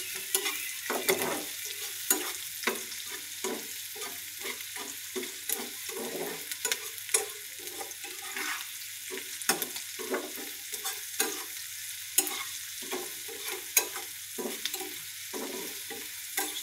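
Onions frying with salt in a pan for a dried ribbonfish dish, stirred repeatedly with a spatula; soft sizzling runs steadily beneath frequent close scraping strokes, with no one talking.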